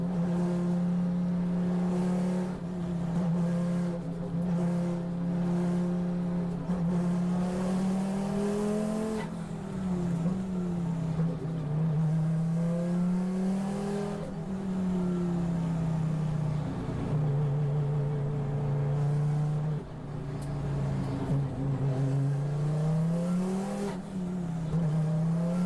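A KTM X-Bow race car, number 26, roars from onboard during an endurance race at the Slovakia Ring, its engine note droning loud and close and rising and falling through gear changes and revs, with no talk.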